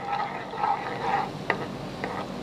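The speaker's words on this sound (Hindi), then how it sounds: "ये प्याज एक छोटा सा काट के हमने इसका तड़का बना रहे हैं।" Chopped onion frying for a dal tempering in a hot pan, a steady crackling hiss with a few sharp pops and stirring clicks, close by, no voices.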